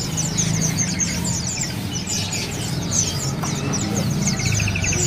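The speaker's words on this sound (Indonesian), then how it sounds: "Ini ada burung cicak kerinci" A caged cicak kerinci bird sings amid a constant chorus of other birds for sale, bright rapid chirps and short trilled phrases layered densely and fairly loud, with a low steady hum beneath.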